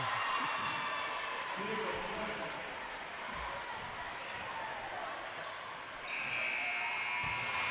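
A buzzer sounds at the end of a boys' high school sectional basketball game, a sustained electronic tone near the close, over gym crowd noise and ball bounces.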